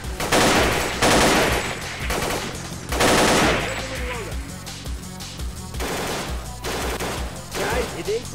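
Rapid machine-gun bursts and gunshots fire in STALKER Clear Sky, loud and close, in repeated volleys with brief pauses between them.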